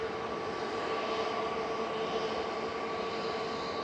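An Aer Lingus jet in retro livery rumbles steadily at an airport, a continuous broad engine roar with a faint tonal whine, moderately distant and alone.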